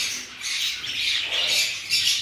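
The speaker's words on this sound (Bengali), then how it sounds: "এখানে ব্ল্যাক লাভবার্ড রয়েছে," Black lovebirds in a bird market squawk continuously, shrill, harsh, close calls overlapping in a dense chatter with no speech.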